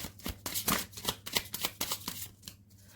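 Tarot cards shuffled by hand in a series of quick, crisp riffling bursts at close range, with no talking.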